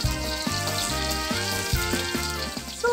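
Free-range chicken deep-frying in oil at a classic restaurant, a steady, fairly loud sizzle and crackle with occasional bubbling bursts, no voices present.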